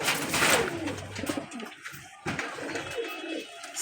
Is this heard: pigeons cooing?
yes